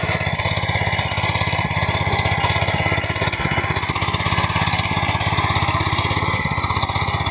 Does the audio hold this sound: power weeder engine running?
yes